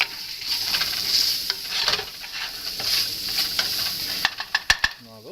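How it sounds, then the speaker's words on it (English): Chopped onion, about a quarter of a medium one, frying in a pan, a steady sizzle with stirring scrapes and some utensil clatter near the end. "so in that same pan, I'm going to start my onions."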